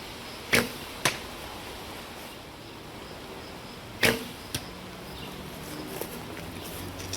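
Traditional bow shot with a split-finger draw: a few sharp, isolated thwacks of string release and arrow flight outdoors, separated by quiet pauses, with faint ambient background.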